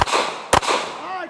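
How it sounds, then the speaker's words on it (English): A Taurus Curve pistol fired at a dragon fruit target, two sharp, loud close cracks about half a second apart, each trailing off in a brief ringing echo. "So, we shot potatoes, then dragon fruit, and now we're just gonna keep shooting slightly larger targets"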